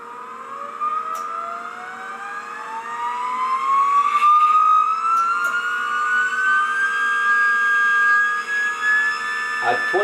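A 60-volt electric motor fed only a fraction of a volt spins up, its steady whine climbing gradually in pitch over a faint low hum, close and fairly loud.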